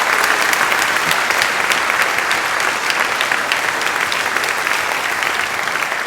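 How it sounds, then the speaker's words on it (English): An outdoor concert audience claps for military veterans, a steady, dense roar of applause from a large crowd that holds at full strength for the whole stretch. "How about one more round of applause for everyone who served our country?"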